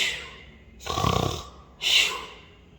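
A voice imitates a sleeping bear snoring, with two drawn-out rasping snores, a rumbling inhale and then a breathy exhale, loud and close with no other sound.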